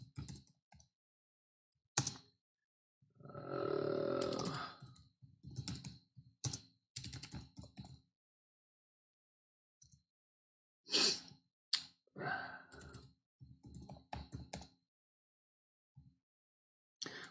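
Fingers typing on a computer keyboard, close and quiet, in irregular bursts of rapid clicks separated by short silent pauses, with no talking over it.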